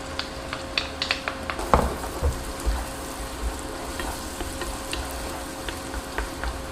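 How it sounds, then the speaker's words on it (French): Shallots sizzling and frying over moderate heat in melted butter in a pan, a steady soft crackle with an occasional sharper pop and stirring, heard alone without talk. "Et j'ajoute les échalotes."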